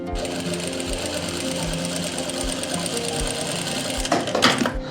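A sewing machine stitching a zip into the back of a kurti runs in a steady close whirring rhythm with regular needle thumps, then a brief rattling burst near the end.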